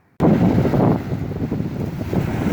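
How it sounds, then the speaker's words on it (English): Strong wind buffets the microphone on a boat off Croatia, a loud, steady low roar and rumble that starts abruptly and carries on throughout with no speech. "There's like wind everywhere."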